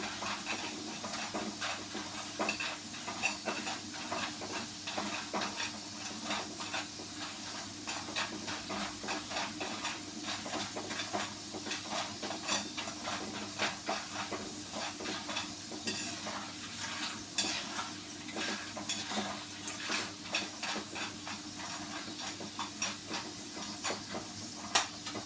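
Food stirred in a hot pan while it fries, giving a continuous sizzle and steamy hiss with soft scraping and clinking from the utensil through the whole stretch.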